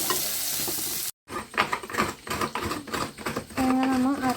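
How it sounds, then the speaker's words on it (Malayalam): Shallots and curry leaves are being sautéed in a pan for Kerala-style chicken curry. The sizzle and stirring scrapes run steadily and close, with a brief silent gap and a louder, hotter sizzle near the end. "ഇനി നമ്മളിലേക്ക് നീരുള്ളി, കറിവേപ്പില, ഇത് നമുക്കൊന്ന് വഴറ്റിയെടുക്കാം"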